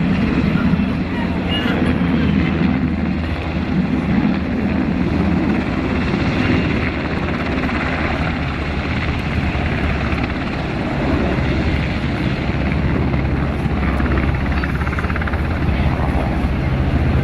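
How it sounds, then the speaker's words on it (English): A Sikorsky HH-60G Pave Hawk helicopter thunders continuously nearby with steady rotor and turbine roar while it repositions for a rescue recovery of an injured patrol member. "As the HH-60 is repositioned for the recovery."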